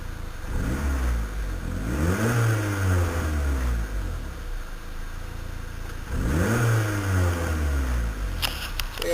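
A turbocharged Acura Integra engine revs twice on a ride, each rise climbing sharply in pitch and then falling back, with a steady idle-like drone between the two pulls.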